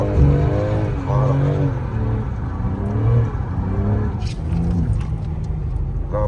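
A BMW M3 engine revving toward 6000 rpm during a drift session on a track, the engine note rising and falling in repeated surges while someone talks over it.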